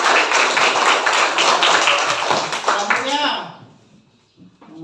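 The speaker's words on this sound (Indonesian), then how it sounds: "beri tepuk tangan untuk Yudi" A primary school class in Indonesia claps for a student, a dense burst of many hands applauding loudly that fades out after a few seconds, followed by a teacher's voice speaking.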